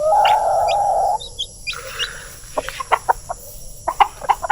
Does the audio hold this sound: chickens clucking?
yes